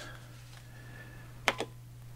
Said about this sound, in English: And it suggests typing in this little starter program.